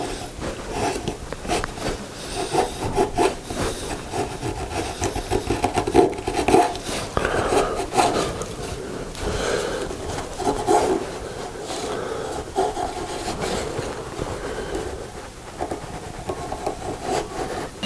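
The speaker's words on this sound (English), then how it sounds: "this chisel is a little dull, so I'm going to go sharpen it up before I do anything more" A dull woodworking chisel is sharpened with continuous rhythmic rubbing and rasping strokes, close and fairly loud, steady throughout with no speech.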